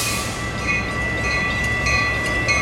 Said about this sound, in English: Line train number 2714 to Chicago Union Station is now arriving.